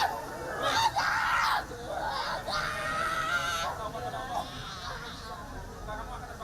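A 25-year-old woman screams and sobs during a mass ruqyah at Masjid Babus Sofa mosque in Bojonegoro, with loud, strained wails rising over a murmuring crowd of voices.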